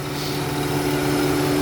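The engine of a 2004 Lincoln Town Car idles smoothly, giving a steady, even hum at moderate volume through a short stretch with no misses or other sounds.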